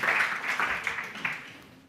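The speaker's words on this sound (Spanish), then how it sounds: "os pido un aplauso para los tres" An audience at a finance conference panel gives applause, a dense, moderately distant clatter of clapping that fades away over a couple of seconds with no talking over it.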